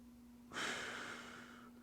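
A person doing a lunge during a stick mobility hip workout lets out one loud, heavy breath that fades over about a second, with a steady low hum beneath it.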